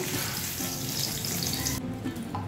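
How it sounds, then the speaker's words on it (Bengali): Eggs fry in hot oil in a pan, giving a close, constant hiss and sizzle that fills the whole short stretch and softens slightly toward the end. "2 পিঠ ভালো করে ভেজে নিচ্ছি।"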